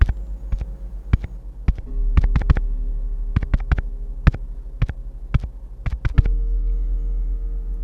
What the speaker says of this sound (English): Bill's eyes widen as he recognizes the Morse code for SOS.